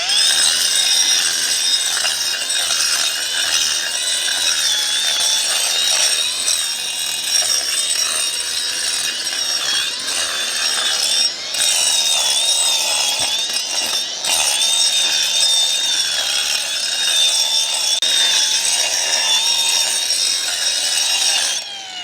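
A power saw grinds steadily through a concrete foundation wall at an HVAC cutout, the blade whining loud and close with a continuous harsh roar and brief dips near the middle.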